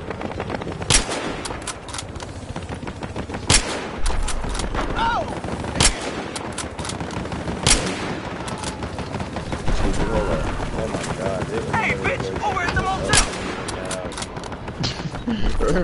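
Bursts of automatic and single-shot gunfire in a video game firefight with snipers on a hill, loud and repeated throughout, mixed with game sounds and players talking over the shooting.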